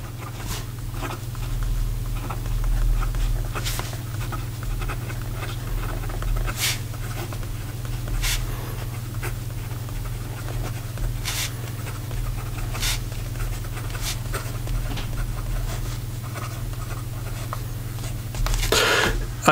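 A fountain pen with a broad Jowo nib scratching across paper, faint irregular strokes and ticks over a steady low background hum, with no talking.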